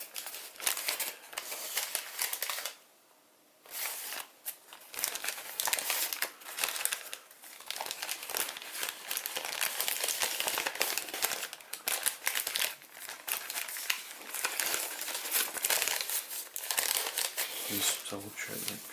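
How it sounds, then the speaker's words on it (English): Paper crinkling and crackling close up while an origami Pegasus is folded, a steady dense rustle with brief pauses and quiet talk now and then. "we make this mountain fold over"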